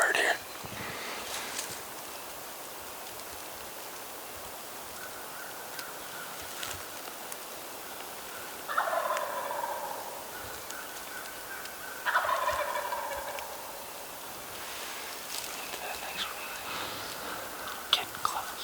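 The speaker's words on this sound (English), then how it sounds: "This is the first really good morning we've had, so they should be gobbling pretty well." A wild turkey gobbles at dawn in the North Carolina mountains, with two distinct rattling gobbles from a distance over a quiet, hissy outdoor background.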